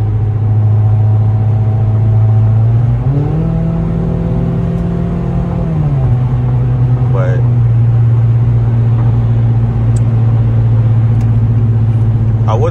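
Inside a Nissan Altima on the road, the engine drones loudly and steadily, its pitch climbing and then settling back down midway through, with cabin hum throughout.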